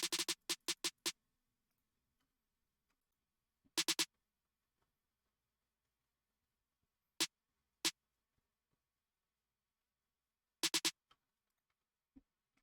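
A modified pop snare sample in FL Studio cracks in dry, punchy hits, first a fast roll of five, then short triplet bursts and single strikes separated by silence.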